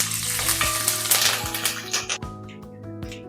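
Dal, cashews and curry leaves fry in hot oil for puffed-rice chivda, a steady close sizzle with a few stirring clacks against the pan and the crackle easing toward the end; no one speaks.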